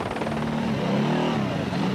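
Helicopters whir at the crowded start of the 1992 Pharaohs Rally raid at Giza on the edge of Cairo, a steady rotor drone filling the scene under a busy background of outdoor noise.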